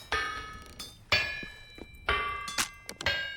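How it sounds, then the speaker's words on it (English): Hammer breaking in the survival game Vintage Story: about four sharp metallic clanks with bright ringing overtones, each decaying quickly, evenly spaced and close up. "Time to break a hammer."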